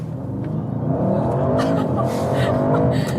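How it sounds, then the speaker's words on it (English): An Audi RS7 Performance accelerates hard in RS mode, a loud close engine roar building in pitch and intensity over a few seconds. "One more acceleration in the RS mode."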